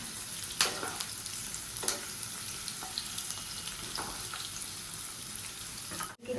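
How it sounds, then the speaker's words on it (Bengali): Chicken cooking in a pan for biryani with onions, a continuous close sizzle broken by a few stirring knocks and scrapes, with no talking. "এটা এখন চিকেনটা রান্না হবে।"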